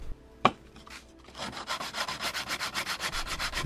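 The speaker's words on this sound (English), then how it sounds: "The edges needed a quick sanding." Wood edges being sanded by hand after jigsaw cutting for a DIY kayak trolley: steady rhythmic back-and-forth rubbing strokes, close and moderately loud, following a single sharp knock at the start.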